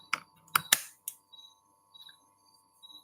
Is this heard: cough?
no